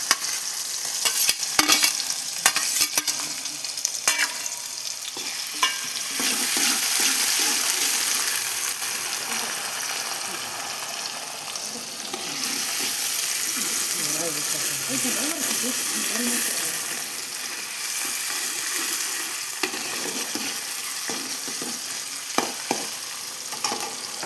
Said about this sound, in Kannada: ನೋಡಿ, ಹೀಗೆ ಓನಿಯನ್ ಫ್ರೈ ಆದಮೇಲೆ ಸ್ವಲ್ಪ ಟೊಮೆಟೊ ಹಣ್ಣು ಹಾಕೊಳ್ಳೋಣ.